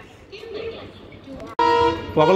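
A train arrives at a station platform, a quiet low rumble at first, then a sudden loud horn blast with a second tooting burst at the end.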